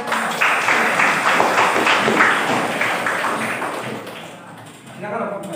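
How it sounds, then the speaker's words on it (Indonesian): Applause from a classroom of students for a presenting group, a burst of dense rapid clapping for several seconds that fades out, followed by a voice speaking. "kita beri tepuk tangan dulu untuk kelompok 4"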